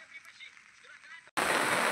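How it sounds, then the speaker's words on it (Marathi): Evening rain falls heavily on a farm where goats are kept, bursting in as a loud, dense, steady hiss after a quiet opening. "तर बऱ्यापैकी पाऊस जोरावलाय"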